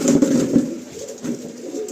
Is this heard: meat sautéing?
no